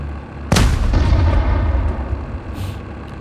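A tank in PUBG Mobile fires its main gun once on Erangel, a single loud, close boom followed by a long rumbling decay under engine drone, no talking.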